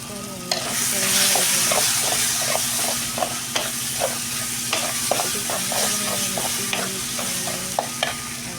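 Spice masala of ginger-garlic paste, turmeric, chilli, coriander and garam masala stirred in a sizzling pan for egg rice fry, a constant fry hiss punctuated by repeated rhythmic scraping clicks of the spoon against the pan.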